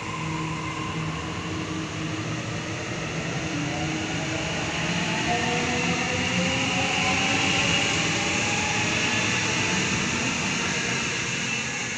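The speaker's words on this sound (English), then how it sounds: "Liverpool only service departing platform 2" Liverpool service train pulling away from platform 2 at Warwick Farm station, a steady rumbling roar with rising motor tones as it accelerates, loud and close for the whole stretch.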